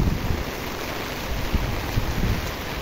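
Heavy rain pours onto a flooded street in Recife, making a dense, steady rushing wash of water with no voices.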